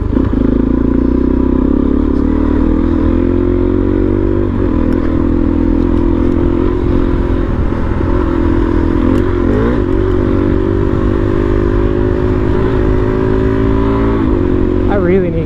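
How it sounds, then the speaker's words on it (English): A dirt bike engine drones loudly and continuously while riding on a desert road, with rattling and crackling over the steady motor hum throughout. "Get myself a dirt bike."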